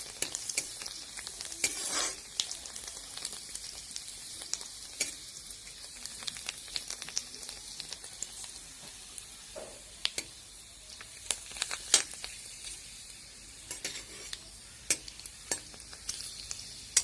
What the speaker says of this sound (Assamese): ভাজি লওঁ চাহৰ লগত খাবলৈ।